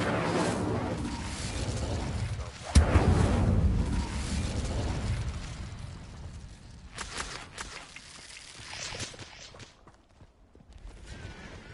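Hogwarts Legacy Incendio fire spell erupting with a sudden whooshing burst, then a roaring, crackling rush of flame that slowly tapers off amid combat noise.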